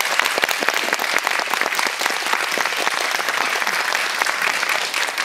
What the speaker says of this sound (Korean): 입장하실 때 큰 박수로 환영의 인사를 보내주시기 바랍니다.